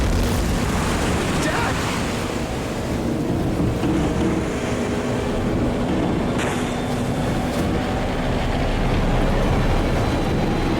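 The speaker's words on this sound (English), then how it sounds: "One of these big waves breaks directly over the middle of the boat." Big ocean waves break over a boat stranded on a reef, a constant loud roar of churning water and wind buffeting the microphone, with a few brief surges and no clear voices.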